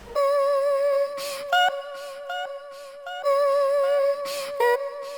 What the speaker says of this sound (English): So I took a vocal sample always from Splice and I chopped it down again to add a little funky layer